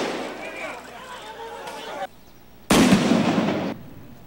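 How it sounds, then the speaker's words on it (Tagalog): Simulated bomb blast during a police drill at Manila Cathedral: a sudden loud explosive burst partway through, ringing briefly before cutting off, after a stretch of voices and background activity. "Sumabog namang bomba ang eksena sa Manila Cathedral."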